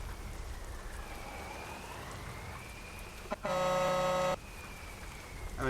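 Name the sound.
rain in Euro Truck Simulator 2 video game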